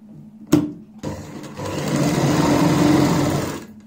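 Close by, a sewing machine stitches a fabric sleeve at home, opening with a couple of sharp clicks before settling into a loud, continuous mechanical whir that holds steady for about two seconds and then stops.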